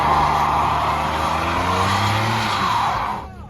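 A Jeep doing a burnout at an after-meet, engine roaring loud and close with a broad hiss of spinning, squealing tires that holds steady for about three seconds before cutting off abruptly.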